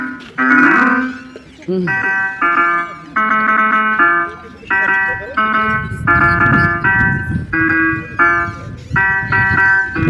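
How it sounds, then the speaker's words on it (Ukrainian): Electronic melody from a children's toy piano panel on an outdoor playground, a bright, loud string of short synthetic tones in a steady rhythm, with an adult's voice talking over and between the notes. "Ану, пограй, Тьомчик. Тут такий, як піаніно."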